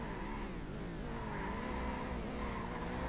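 A NASCAR-style race car in Burnout 2: Point of Impact drones steadily with a rising and falling engine note and faint tire noise, heard alone at low volume.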